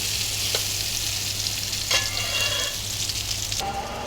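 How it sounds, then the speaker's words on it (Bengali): Pointed gourd and potato frying with onion-garlic paste in a pan give a continuous, fairly loud oily sizzle, with a couple of brief stirring scrapes and a sudden drop in the hiss near the end. "ও দেখিল আমি পটল আর আলু বাজি লাইছি, আর ইনো আমি দিলাইছি পেঁয়াজ রসুন বাটা"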